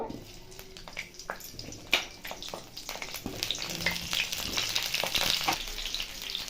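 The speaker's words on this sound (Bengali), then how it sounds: "আগে ফুলকপিটা ভেজে নেব" Cauliflower pieces fry in mustard oil in a pan, sizzling and crackling steadily, with occasional clinks and scrapes of stirring.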